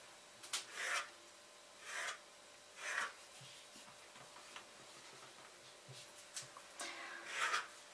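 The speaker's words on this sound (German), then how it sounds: "Ich schneide einfach so Viereck daraus." A knife slices rolled manti dough into squares, giving a few faint, short scraping cuts in a loose irregular rhythm, quiet and close with no talk.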